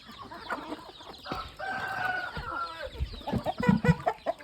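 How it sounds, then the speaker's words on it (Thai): Several chickens cluck close by while a rooster crows, with scattered squawks and bird calls layered over a busy farmyard background. "ก็มีไก่เยอะแยะเลยนะครับ"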